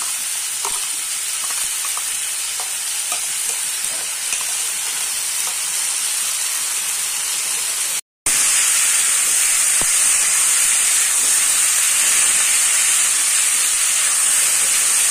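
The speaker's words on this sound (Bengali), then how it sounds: "এবার দিচ্ছি আদা রসুনের পেস্ট।" Ginger garlic paste hitting a hot frying pan for chilli soya, a bright, continuous close sizzle and hiss with faint stirring, briefly cut by a moment of silence before resuming strongly.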